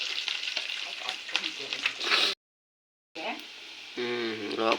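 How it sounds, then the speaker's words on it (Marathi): Whole spices tempering in hot oil for a Malvani-style crab curry, a dense steady crackle and sizzle that cuts out briefly and resumes, with a voice humming or speaking faintly near the end. "फोडणी तडतडली अशी तडतडा पाहिजे फोडणी."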